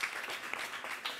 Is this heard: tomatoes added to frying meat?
no